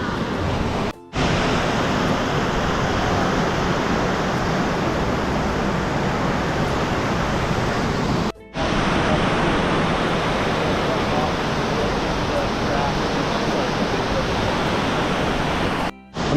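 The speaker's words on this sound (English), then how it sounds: "I'm joining you live from the top of Hawaii's tallest rappelling waterfall" A rushing waterfall and clear stream at the top of Hawaii's tallest rappelling waterfall, a loud, steady roar that cuts out briefly twice.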